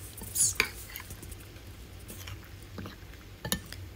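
Shrimp being mixed in marinade in a bowl, with a few quiet clinks of utensil against the bowl and soft wet stirring at close range, no talking.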